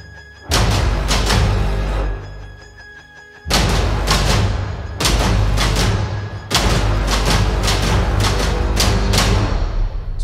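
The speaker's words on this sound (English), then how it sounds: "I'm gonna add a few timpani hits and we are done." Timpani hits in an orchestral music production land as deep, booming strikes, each followed by a long rumbling tail; a few heavy blows come spaced seconds apart, loud and upfront.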